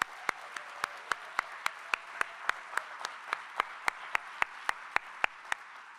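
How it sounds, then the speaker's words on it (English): An audience at an arts awards ceremony applauds the Wendt family, giving a soft continuous wash of clapping with sharp, evenly spaced close claps standing out about every quarter second. "Please give their family a big round of applause."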